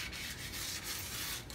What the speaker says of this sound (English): So now I'm going to use a piece of sandpaper